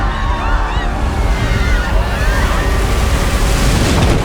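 Ocean surf breaks on a beach in film footage, a steady loud wash of rolling waves and wind rumble filling the whole stretch without pause.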